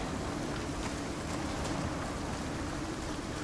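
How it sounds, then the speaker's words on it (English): Heavy rain in the survival video game Icarus hisses as an even, fairly faint wash of noise, with no voices or other distinct sounds. "Like this weather right now, simply just slows me down because it's hard rain."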